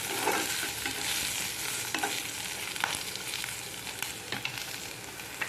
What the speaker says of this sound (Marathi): छान आता मिरच्या पण जरा खरपूस भाजल्या गेलेल्या आहेत